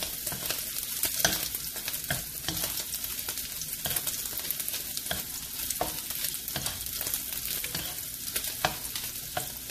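Fatty pork frying in its own rendered fat makes a steady, crackling sizzle. Frequent small pops and spatters run through it, and an occasional soft stir is heard.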